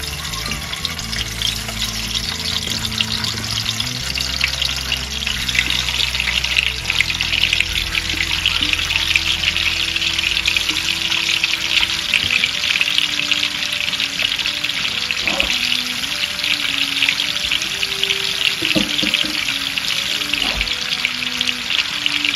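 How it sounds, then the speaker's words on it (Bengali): Eggs fry in hot oil in a pan, giving an even, continuous crackling sizzle at close range with no talking. "ডিমগুলো একটা করে দিয়ে একটু ভেজে ফেলবো।"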